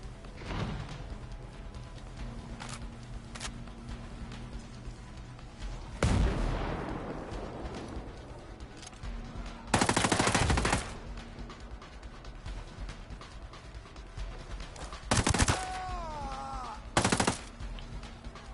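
Scattered gunshots and short bursts of automatic fire in Ghost Recon Breakpoint, loud cracks separated by quieter stretches, with a ricochet-like sweep and a few tonal radio chirps in between.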